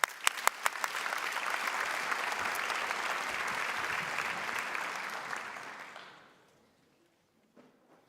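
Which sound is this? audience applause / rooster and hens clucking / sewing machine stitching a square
audience applause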